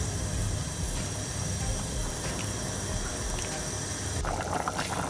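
Leek and potato soup boils in a pot, giving a dense, steady bubbling hiss throughout with a brighter burst of splashing near the end.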